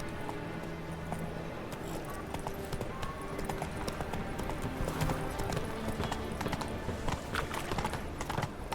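Roach, Geralt's horse in The Witcher 3 game, clip-clops at a walk, a steady rhythm of hoof falls over ambient game sound, with a faint voice in the background.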